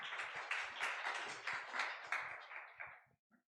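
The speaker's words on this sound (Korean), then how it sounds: "큰 박수로 환영해 주시면 감사하겠습니다" Clapping from a Korean church congregation at a Sunday afternoon young adults' service, welcoming a newcomer. A short, dense burst of many hands at moderate distance fades out after about three seconds, leaving a few last isolated claps.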